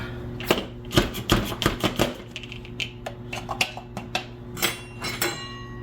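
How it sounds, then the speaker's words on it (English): Chunks of bell pepper being chopped in a food chopper for a 1965-style Spanish gazpacho, a run of sharp close blade clicks and knocks in uneven bursts, with no talk. "So I'm just going to throw probably 1/2 pepper worth of chunks in here and chop it and see what we get."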